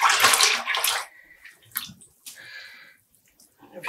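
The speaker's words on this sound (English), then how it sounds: "you just keep dunking it in the water" Yarn dunked into water for home dyeing, a loud splashing swish at first, then drips, gurgles and small sloshes as the skein is moved around, no talk.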